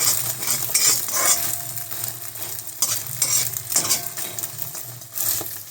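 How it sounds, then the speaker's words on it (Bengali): Omelette frying in a pan in a home kitchen, a steady sizzle under repeated scraping and stirring of a utensil against the pan, close and continuous. "এই যে অমলেট বানাচ্ছি"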